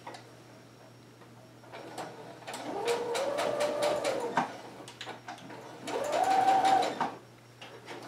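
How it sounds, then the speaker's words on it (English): A sewing machine stitches a strap down onto a cape in two separate runs, a rapid mechanical chatter lasting about two seconds and then about one second, with a quiet pause between them. "bring it over to the sewing machine, and sew that down really quick."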